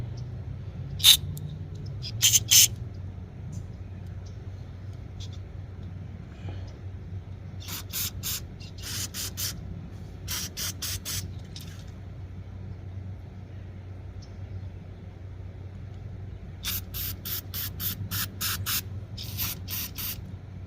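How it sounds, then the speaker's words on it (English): Several short bursts of carburetor cleaner sprayed through the jets of a Troy-Bilt TB110 carburetor, some single and some in quick clusters, over a low steady hum of background noise. "and then we can get a proper spray through"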